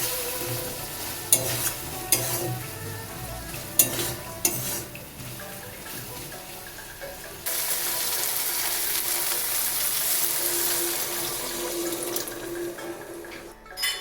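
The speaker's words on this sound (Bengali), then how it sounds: "আলু আর চিংড়ি মাছ মশলার সাথে কষিয়ে নিচ্ছি।" Potatoes and prawns sautéed with spices in a pan, with clattering stirring strokes over a soft sizzle, then a louder continuous hiss partway through.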